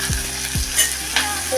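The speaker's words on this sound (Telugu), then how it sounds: "ఉల్లిపాయలు వేసింది. ఇప్పుడు కలుపుతుంది." Onions fry in a pan, sizzling loudly and steadily up close while a spoon stirs them with a few scraping strokes.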